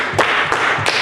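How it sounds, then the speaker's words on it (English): Steady group handclapping from a church congregation at a Friday night vigil, with beats spaced evenly and loud, accented periodically by sharper claps. "Let's keep on clapping for God."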